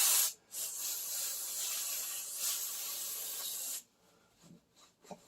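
Parts cleaner hisses from an aerosol can onto the underside of a Triumph Spitfire in a short burst and then a long continuous spray, close by, followed by a few faint knocks.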